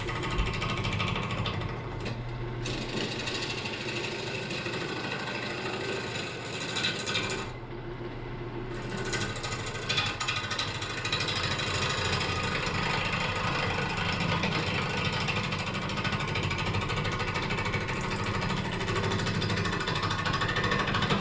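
A wood lathe spins an apple log while a roughing gouge cuts it, making a continuous close whirring and scraping with a couple of brief drops, and no talking.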